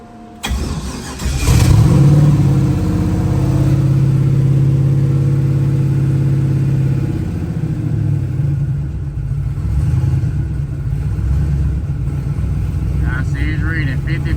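A Chevrolet Malibu engine being tuned fires up and settles into a loud, close, steady running drone, with someone talking over it.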